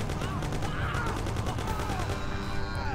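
Rapid bursts of gunfire in the game Mafia crackle continuously over a dense, busy background, with faint voices mixed in.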